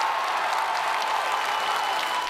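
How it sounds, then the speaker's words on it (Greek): Crowd cheering and applauding outdoors on a city avenue outside a courthouse after a verdict, a steady dense roar of clapping and voices throughout, fairly loud and continuous. "Το πλήθος που από νωρίς το πρωί της Τετάρτης είχε κατακλείσει τη λεωφόρο Αλεξάνδρας ξεσπά σε πανηγυρισμούς"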